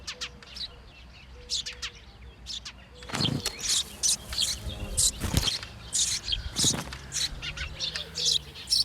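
Tree sparrows chirp repeatedly at a nest inside a metal pipe in a garden, with bright, quick calls in irregular bursts, busier and louder in the second half, some close and some further off.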